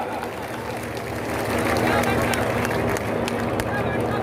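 Crowd at a village gathering applauding to welcome a guru, a steady wash of clapping and crowd noise that grows louder midway, with voices mixed in.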